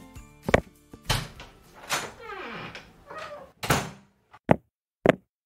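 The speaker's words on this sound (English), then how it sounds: "Someone is knocking on my studio door." A few sharp knocks on a studio door, separated from each other and fairly close, sitting among other brief thumps and voice-like sounds.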